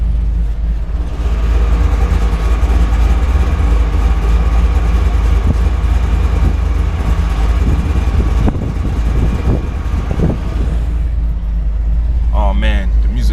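A Chevrolet Camaro's engine runs steadily at a car show, a loud continuous low rumble heard from inside the car, with a brief voice near the end.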